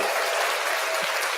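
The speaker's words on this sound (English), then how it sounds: "Let's give a round of applause for Jay Global" A round of applause from a small audience, steady clapping throughout at close range with no talk over it.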